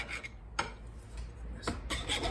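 The blunted edge of an awl is sharpened with a few faint, quiet rasping strokes, spaced irregularly over a couple of seconds.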